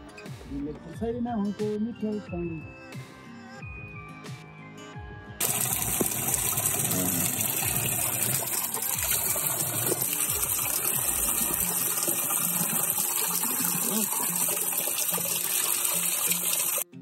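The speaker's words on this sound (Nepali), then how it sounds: "यहाँ धारा छ, खानु न पानी, खानु धाराको पानी" Water from a public tap in Terhathum begins to gush after a stretch of talk and music. The flow stays loud and steady to the end.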